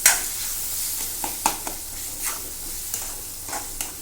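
Spices for a fish curry fry in oil in a pan under a steady sizzle, with several distinct scraping stirs spaced through the sound. It is close and fairly loud, and no one speaks.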